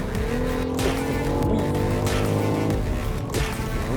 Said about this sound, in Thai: แรงออกตัวเขาดีจริง ๆ เลยครับคันนี้ สมกับเป็น XM จริงๆครับ